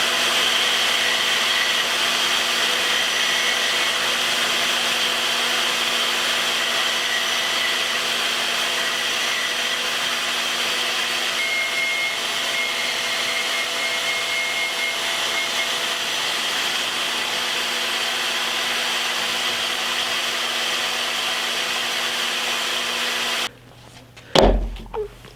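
A grinder works steadily on a custom fighting knife with a brass bolster, a loud continuous whine that holds for over twenty seconds and then stops abruptly, leaving a few brief knocks and handling noises.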